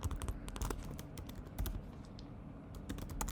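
Rapid typing on a computer keyboard, with quick, uneven bursts of close key clicks and short pauses between runs, heard alone with no voices.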